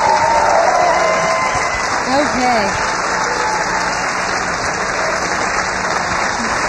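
A fan-gathering crowd applauds and cheers loudly indoors, a continuous roar of clapping with whoops and shouted voices, while someone speaks briefly over it.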